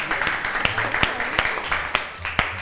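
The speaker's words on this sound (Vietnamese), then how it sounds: "Ủa, vỗ tay đi chứ, vỗ tay đi" Scattered handclaps from a small group of students, uneven and sparse, mixed with talking voices in the background.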